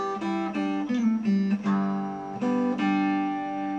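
A guitar plays a plucked melody with low bass notes added beneath, about eight picked notes at a gentle pace with a fuller, ringing sound, close and without talking.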